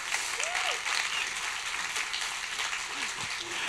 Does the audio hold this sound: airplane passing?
no